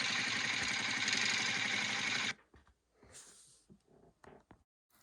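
A Yamaha Grizzly ATV engine idling on a farm, a steady close rumble for about two seconds that cuts off, followed by faint scattered knocks and handling noises.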